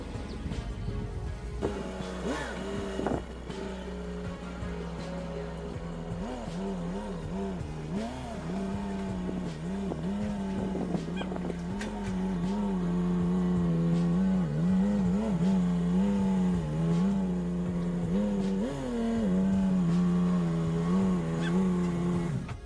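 A forgotten 1980s car makes a clumsy 18-point turn. Its engine idles and revs up and down in repeated waves, close and continuous for over twenty seconds, with an occasional faint tire scuff.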